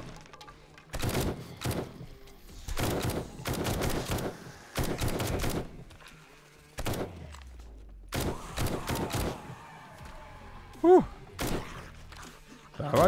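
In the video game 7 Days to Die, gunfire crackles in several rapid bursts separated by short pauses, with someone talking between them.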